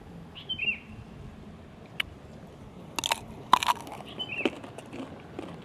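Fresh mango picked straight from the tree and dipped in chili salt, bitten outdoors beneath the tree; a few crisp crunchy bites with birds chirping faintly in the background and no talking.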